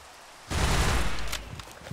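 A burst of rapid gunfire erupts in a video game, a loud dense crackling volley lasting about a second before trailing off into scattered fainter shots.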